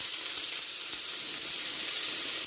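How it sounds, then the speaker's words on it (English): Juice from pre-cut vegetables sizzles in hot cooking oil in a frying pan, a steady close hiss with fine crackle that holds evenly and never lets up. "That's just a little bit of juice coming off the vegetables into the hot frying pan, into the cooking oil"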